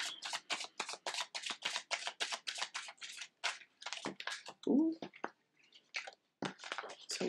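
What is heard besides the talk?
shuffling tarot cards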